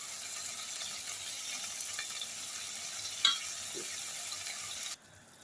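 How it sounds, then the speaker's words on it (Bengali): Mutton sautéed in mutton stock gives a soft, continuous sizzle with an occasional scrape or clack of a spoon, faint and steady until it stops near the end. "পাঁঠার মাংসতে আমি জলের বদলে মটন স্টক দিয়ে কষতে থাকবো।"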